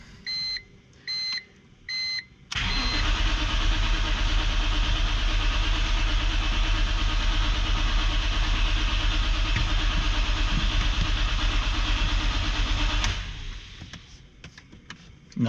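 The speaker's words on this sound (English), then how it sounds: "Moment of truth time. Battery should be charged. It's hooked up to the booster." A 2006 BMW Z4 M Coupe hooked to a booster: three short warning beeps, then a loud, steady cranking-like engine drone for about ten seconds that cuts off and fades, with no sign of the engine catching.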